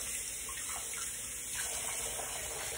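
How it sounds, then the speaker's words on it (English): Tap water running steadily into a sink while someone rinses their face after a shave, a constant close splashing flow with small variations as hands move through the stream. "Just rinse my face off here."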